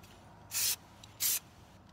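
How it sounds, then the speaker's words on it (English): Two short hissing bursts from a spray paint can, each about a quarter second, separated by a brief pause over quiet background. "I'm spraying it this time."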